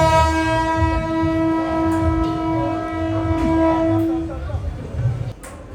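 A MEMU suburban electric train on the Yelahanka–Arsikere line blares its horn loudly for about four seconds over a low rumble, then the rumble continues with some clattering noise.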